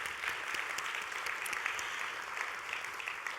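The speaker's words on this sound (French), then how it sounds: "On peut les applaudir aussi." Audience applause fills a symposium hall on artificial intelligence, a dense, steady patter of many hands clapping at moderate level with no talking over it.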